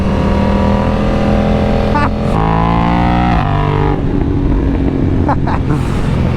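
A race motorcycle engine runs loud and close, its pitch rising and falling through several revs, with a voice talking over it.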